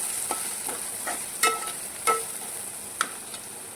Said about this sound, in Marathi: त्यामध्ये टाकूया आपण मीठ, हळद, मिक्स करून घेऊया